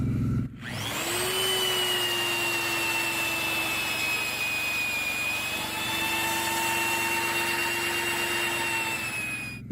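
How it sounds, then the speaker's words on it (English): A power drill boring holes in logs for a log cabin whines steadily at high pitch after a brief start-up, running continuously and loud close by for the whole stretch. "what I'm doing right now is just boring lots of holes with our drill"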